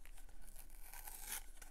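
A short ripping, crinkly tear of tape pulled away from paper, close and fairly quiet, peaking briefly near the end.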